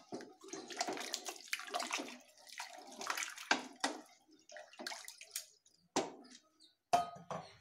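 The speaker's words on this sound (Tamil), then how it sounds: "இப்போ 3 டம்ளர் தண்ணி ஆட் பண்ணிருக்கோம்" Water poured from a tumbler into raw parboiled rice for a vegetable pulao, several short splashy pours with clinks between them, close and moderately loud, with quiet gaps and no talking.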